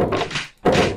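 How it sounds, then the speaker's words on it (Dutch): Two heavy thuds of a door slamming shut, played as a sound effect on a joke website, loud and close with a brief gap between the impacts. "Maar je kan dus met deuren smijten hier."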